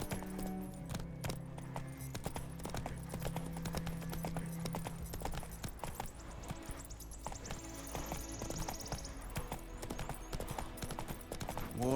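Horse hooves clip-clop in a fast, steady rhythm as a rider travels in Witcher 3, loud and continuous, with jangling tack and a soft ambient background throughout.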